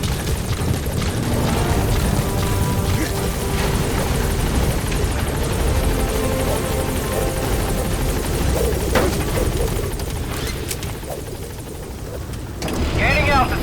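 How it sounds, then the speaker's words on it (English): In Metal Gear Solid 5, a support helicopter arrives with a loud, steady rotor roar that fills the whole stretch, and a voice speaks briefly over the constant thrumming. "Support helicopter has arrived."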